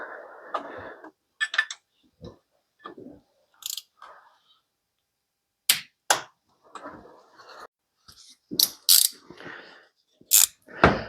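Ratchet clicks in short separate bursts as bolts are tightened on the water housing of a Land Rover Defender TD5, sharp and close, with pauses between them.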